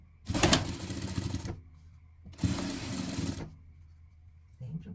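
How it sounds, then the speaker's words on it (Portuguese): Two bursts of about a second each come from a sewing machine stitching a seam on a pet harness, its rapid mechanical chatter loud and close with a quiet pause between them. "vamos passar aqui uma costura primeiro aqui"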